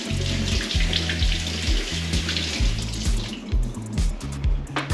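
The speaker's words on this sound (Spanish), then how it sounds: "primero vamos a coger y vamos a lavar las patatas" Potatoes washed under a running kitchen tap for a potato recipe, a steady splashing stream of water with irregular rhythmic knocks and rubbing as the potatoes are handled in the sink, close and continuous.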